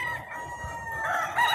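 A rooster crows loudly and close among a flock of about 500 farm chickens, hens and chicks, with fowl clucking around it.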